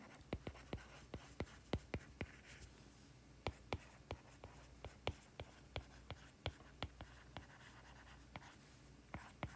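Chalk or marker writes on a board during a physics lecture, giving a series of crisp taps and scratchy strokes at an uneven rhythm, close and fairly quiet.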